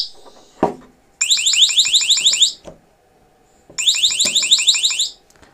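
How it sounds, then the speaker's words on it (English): A NEXTORCH ND30 flashlight lifted off a table sounds its siren alarm: two loud, piercing bursts of rapid high chirps, each lasting about a second and a half, separated by handling clicks and thumps. "be a series of 9 of those flashes and 9 of the chirps, or the siren sounds."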